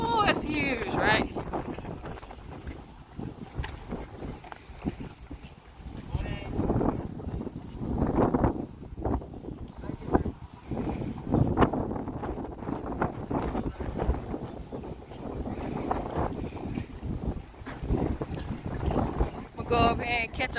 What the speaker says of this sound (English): Hopefully it ain't too windy out here and y'all can hear me.